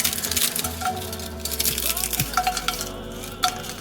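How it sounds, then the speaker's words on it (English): Tortilla strips frying in a pan crackle and sizzle under busy stirring, with frequent clatters and scrapes of a utensil against the pan. "Fry either your tortilla strips or your 1 cup of crushed tortillas for about 5 minutes, being careful not to burn them."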